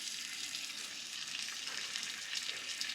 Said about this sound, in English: The butter nearly melted, so I'm ready to put all this sorrel in that saucepan